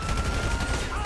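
Gunfire in GTA 5 rattles off in a rapid, dense burst of close, loud shots during a brief moment of action.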